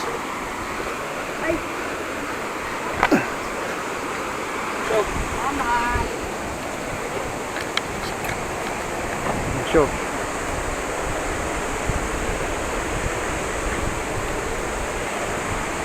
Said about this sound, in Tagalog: Sa lakas ng agos